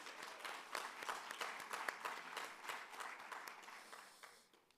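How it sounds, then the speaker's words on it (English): An audience applauding at a digital rights livestream event, a moderate burst of clapping that holds steady and then fades out. "Et je vous demanderai d'applaudir les dames"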